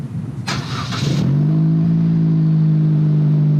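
A Vanderhall Venice engine with a catless downpipe revs sharply once with a loud, raspy roar, then settles into a steady, deep idle drone close by.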